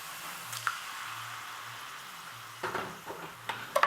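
Base gravy poured into a hot pan for a restaurant-style chicken tikka dhansak, giving a soft steady sizzle with a few brief louder crackles and stirring bursts near the end.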